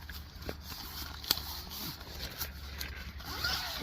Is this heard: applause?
no